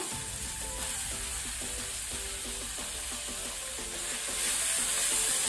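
Ginger frying over a medium flame for squid stir fry gives a steady, close, dense sizzle with faint rhythmic stirring scrapes, swelling a little louder near the end.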